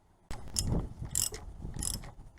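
A ratchet wrench clicks in quick, uneven bursts of mechanical ratcheting close up while loosening the front strut of a 2002 VW Jetta, starting abruptly after a moment of quiet.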